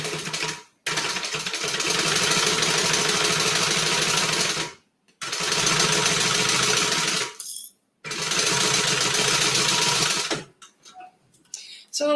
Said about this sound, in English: and we're going to top stitch it.